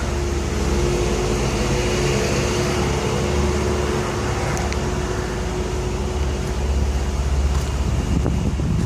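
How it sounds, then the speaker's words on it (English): Wind roars steadily at night during a storm with a microburst, a dense close rumble and hiss buffeting the microphone throughout, with no voices. "And there's still wind."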